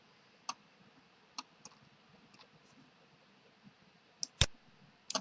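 A computer mouse clicks sharply several times at irregular intervals, close and crisp in a quiet room, with one louder click near the end.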